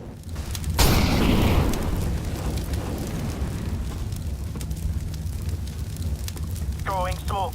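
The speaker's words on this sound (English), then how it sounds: "Flashbang." A flashbang grenade goes off in a video game as a loud broadband burst about a second in, then a long rumbling wash of noise fading slowly, with a brief voice-like chirp near the end.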